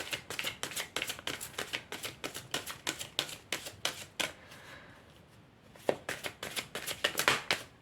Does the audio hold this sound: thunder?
no